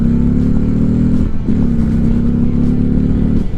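Harley-Davidson Street Glide ST with its 117 V-twin revving while riding, a loud, deep, throbbing engine note that climbs, dips briefly at a shift and pulls again, close up.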